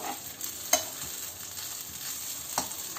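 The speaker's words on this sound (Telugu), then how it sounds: "ఇలా స్లోగా టర్న్ చేసుకుంటూ ఉండాలి అంత ఈవెన్గా ఫ్రై అయ్యేలాగా చూసుకోవాలి" Leftover idli pieces fry over a medium flame in a pan, a soft steady sizzle with occasional clicks and scrapes as they are slowly turned, close and fairly quiet.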